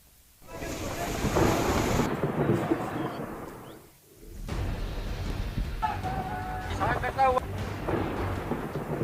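Thunder rumbles through a heavy rainstorm in broad, rolling bursts, with a brief near-silent gap midway; a bird's crowing and faint voices cut in over the storm noise.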